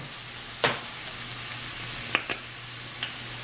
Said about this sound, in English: And while the steak is browning, I'm adding our 1/2 teaspoon of salt.